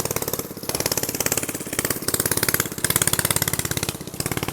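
A small, loud motorbike engine buzzes past up close with a rapid pulsing putter, rising and falling in rhythm over a few seconds, with no one speaking.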